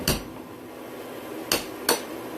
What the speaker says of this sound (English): I would say hammer on all of them.